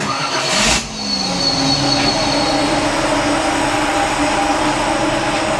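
A 1955 Chevy Nomad engine idles steadily at close range while warming up, with a constant rumbling drone, preceded by a brief sharp burst of noise near the start.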